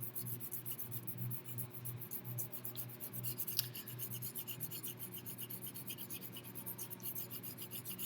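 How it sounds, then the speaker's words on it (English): A pencil shades a sky lightly on paper, producing a soft, continuous scratchy rasp of graphite strokes that is close and quiet, with no talking. "I'm keeping my pencil very light, airy, as I shade my sky."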